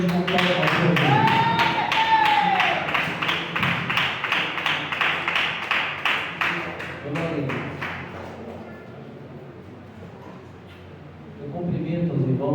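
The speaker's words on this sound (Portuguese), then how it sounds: "Receba o servo de Deus com palmas." A church congregation claps in unison to welcome the preacher, a loud, rhythmic run of sharp claps that fades out midway, followed by quiet room noise and a hint of voice at the end.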